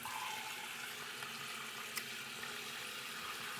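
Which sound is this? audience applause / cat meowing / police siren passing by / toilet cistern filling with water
toilet cistern filling with water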